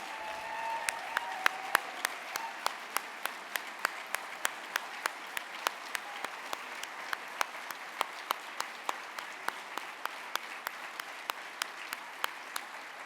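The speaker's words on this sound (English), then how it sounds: "Let's give everybody a round of applause." At an awards ceremony for public servants, the audience applauds with distinct, evenly spaced claps standing out over a quiet, sparse patter, fairly soft and continuing steadily.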